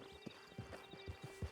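Horse hooves clip-clop at a steady trotting rhythm in the Red Dead Online video game. The faint, even thuds repeat over a low background hum.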